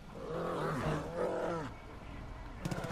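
A bear in the video game Far Cry New Dawn lets out a deep, rumbling roar that rises and falls over about a second and a half, followed by quieter growling and a brief clatter.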